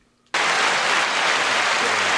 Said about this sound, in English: That's an applause. It's applause.